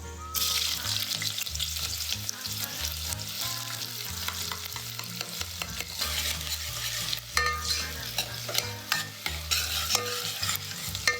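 Whole spices and onion fry in hot oil for a chicken curry, a loud, dense, continuous sizzle with crackling spits, while steady music plays underneath.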